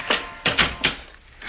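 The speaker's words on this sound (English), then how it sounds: "Open the door." A door is opened in an old radio drama: several close wooden knocks and clunks of the latch and frame, spaced unevenly over a second and a half, with no voices.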